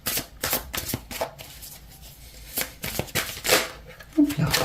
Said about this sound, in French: je vais compléter 2 cartes